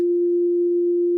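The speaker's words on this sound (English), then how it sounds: "So first we just hear the sine wave" A plain steady sine tone holds a single unwavering pitch, loud and alone from start to finish, with no other sound.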